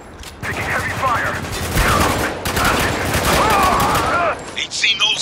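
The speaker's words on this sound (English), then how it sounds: "Taking heavy fire." Heavy gunfire in the shooter Spec Ops: The Line, dense overlapping rifle shots crackling nearly nonstop for several seconds, loud and close, with shouted voices mixed through the barrage.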